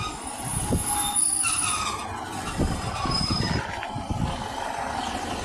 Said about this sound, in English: And here is our train.